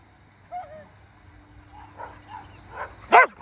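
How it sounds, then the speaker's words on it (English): A dog gives a few short barks and yips outdoors, moderately close, the loudest one near the end, with faint background hum and people calling nearby. "This dog is just barking."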